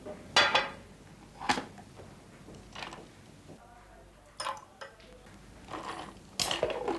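Ice cubes drop into a glass of whisky in a few separate sharp clinks and rattles, with quieter pauses between them, close and clear.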